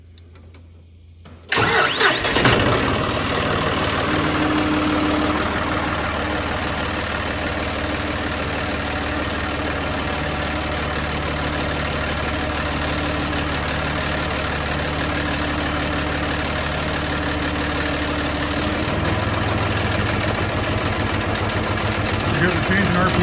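A John Deere 5055E tractor with air in its fuel system cranks and catches, then runs close by with a steady diesel rumble, its pitch shifting as the RPMs change toward the end; a person talks over the engine.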